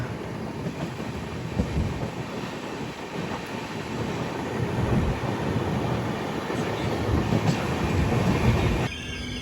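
A passenger train rolls slowly near the Renigunta outer, giving a continuous close rumble of wheels and carriage noise with faint squeals, until it drops suddenly at the end.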